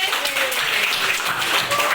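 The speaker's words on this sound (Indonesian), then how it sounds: "Oke, kasih tepuk tangan untuk kelompok R." A classroom of students applauds a student group with dense, steady clapping that fills the room and holds at an even level, with voices mixed into the noise.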